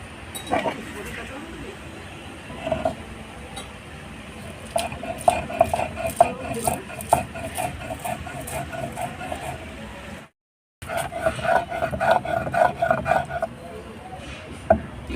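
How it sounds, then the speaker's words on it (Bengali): Poppy seeds, black mustard and chillies ground together into a paste, with rhythmic scraping and rubbing strokes of a grinding stone that continue steadily, a brief silent break near the end and a voice talking over parts of it. "পোস্ত কালো সর্ষে লঙ্কা দিয়ে একবারে বেটে নেবো"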